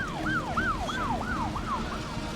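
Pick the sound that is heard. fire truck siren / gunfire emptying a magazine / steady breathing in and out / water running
fire truck siren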